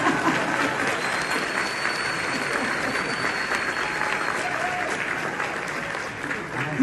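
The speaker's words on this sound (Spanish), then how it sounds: "Aplaudan duro porque si no, no se sienta." An audience claps hard and steadily at a live interview event, thick applause that holds throughout, with faint voices and light laughter mixed in underneath.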